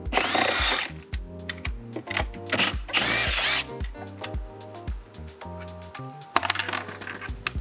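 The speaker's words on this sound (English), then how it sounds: "we're going to remove 10 acorn cap nuts using a 10mm socket" A power tool with a 10mm socket runs in short, repeated bursts to remove acorn cap nuts on a CSC E-RT3 electric scooter, the ratcheting whirs close and loud, separated by brief pauses and small clinks.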